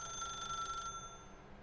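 A telephone rings faintly in The Stanley Parable, a single electronic bell trill that fades out partway through, heard alone without talk.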